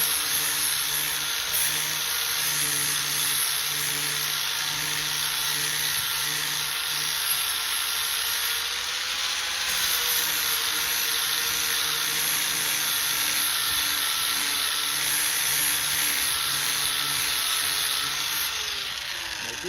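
A 4.5 inch angle grinder fitted with a sandpaper pad sands a metal garden tool, giving a steady high-pitched whine that runs unbroken for about twenty seconds, close and loud, with slight shifts in pitch as the pad presses on the surface.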